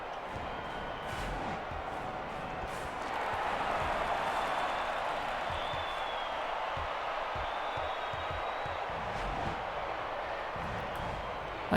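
Arena crowd at a college basketball game, a steady broad roar of cheering that swells around the middle and holds, with scattered thumps and faint talk beneath.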